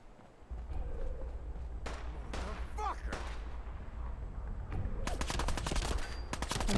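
Enemy gunfire in the Fallout 4 video game, with bursts of shots building into rapid automatic fire toward the end, loud and continuous over a low rumble.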